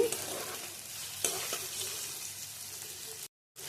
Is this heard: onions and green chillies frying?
yes